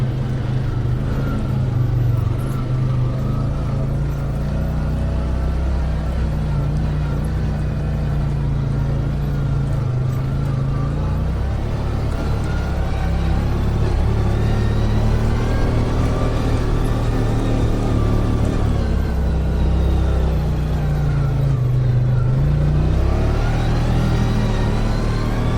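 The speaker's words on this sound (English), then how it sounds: "Here I'm waiting for a couple motorcycles to come up the hill." A couple of motorcycles climb a roadside hill, their engines a steady low drone that slowly builds as they approach, with rising revs in the second half.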